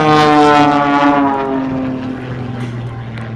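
Aerobatic propeller airplane at an air show, throttle adjusted slightly while held on one spot, giving a loud, steady droning engine tone that sags gently in pitch and volume across the few seconds.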